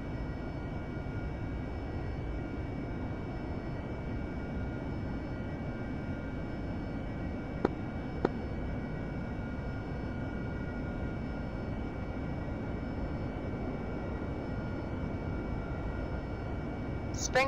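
Aircraft engine idling and taxiing in the DCS World flight simulator, a steady continuous drone at moderate level with a couple of faint clicks, no talk.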